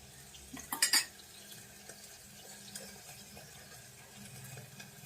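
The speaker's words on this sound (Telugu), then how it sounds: "చింతపండు రసం పోసుకుందాం పోసుకొని ఒకసారి కలుపుకోండి" Tamarind juice being poured into a pot of cooked dal for sambar and stirred: a short clatter of a utensil against the pot early on, then faint, quiet mixing sounds.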